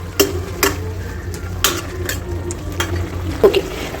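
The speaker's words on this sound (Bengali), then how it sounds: "আমি ঢাকা দিয়ে 2 মিনিট মতো সেদ্ধ হতে দেবো।" A lid goes onto a pot of boiling pasta and vegetables, giving several sharp metallic clinks and clanks of cookware spread over a few seconds against a low steady hum.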